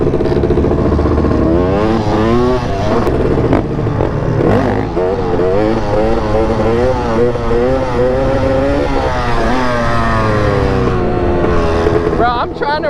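A two-stroke three-wheeler engine revs and bogs off-road, its pitch rising and falling through a loud, steady drone, with voices shouting over it.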